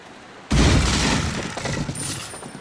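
Gunfire in the video game Resident Evil 4 erupts as a sudden loud burst of shots that rolls on as a dense, booming volley, then gradually thins out, with no talking over it.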